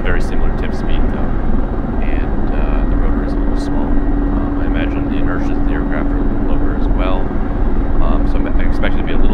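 Mi-24P Hind attack helicopter rotor in the DCS flight simulator game: a loud, steady rotor and turbine drone fills the whole stretch while someone talks continuously over it.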